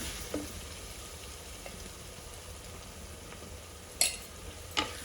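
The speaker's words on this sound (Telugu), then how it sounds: "పచ్చి వాసన పోయేంత వరకు, అల్లం మంచి అరోమా రిలీజ్ చేసేంత వరకు మనం ఫ్రై చేసుకుందాం" Onions frying in a pan with ginger-garlic paste and turmeric, a steady low sizzle with a couple of sharp utensil clinks near the end.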